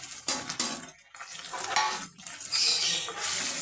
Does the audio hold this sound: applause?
no